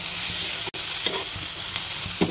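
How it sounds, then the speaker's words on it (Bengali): Chicken with capsicum and onion, lightly salted, sizzles as it is sautéed in a pan, a loud continuous frying hiss with occasional scraping stir strokes and one brief cut-out. "অল্প একটু সটে হওয়ার পর এবার দিয়ে দেবো চিকেনটা।"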